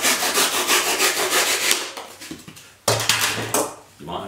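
A handsaw rasps back and forth through a wooden hat block for felt making, a quick rhythmic series of close, gritty strokes, then a pause and a few more short strokes.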